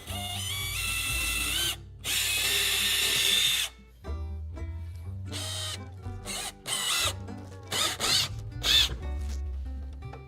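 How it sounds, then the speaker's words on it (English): A power drill with a 3/8 inch bit drills holes in a kayak, whirring in several bursts of varying length, starting and stopping with brief pauses, close and clear, with no speech. "I'm gonna go ahead and create my holes."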